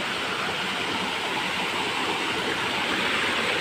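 Floodwater in a creek rushes steadily and close, a loud, continuous broadband hiss of flowing water with no pauses or other sounds.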